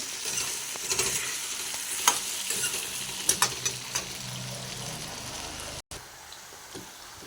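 Potatoes fry in a pan with a dense crackling sizzle and repeated clicks and scrapes of stirring, with a brief dropout late on before the frying resumes more quietly.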